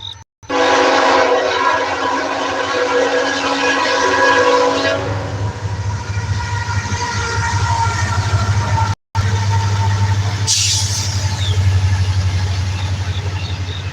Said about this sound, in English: because a train is passing